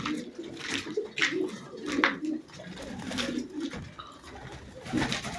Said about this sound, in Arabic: اتفرج عليه كده وهو بيطير فرد الحمام ده